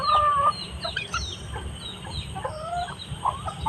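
Domestic chickens cluck in a short series of calls over a low rumbling background, with a louder burst at the start and scattered softer clucks after; a faint voice may be present.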